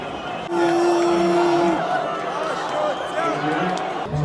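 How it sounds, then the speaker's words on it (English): A street crowd booing near a hotel among parked cars, a steady roar of many voices with one long held tone cutting through early on, kept up throughout at moderate distance. "Everybody's very unhappy about something and they're all booing."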